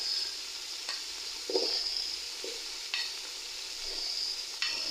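Garlic ginger paste frying with chopped tomatoes and green chilies for white chana pulao, a soft steady sizzle broken by a few sharp spoon knocks and scrapes against the pot, no speech.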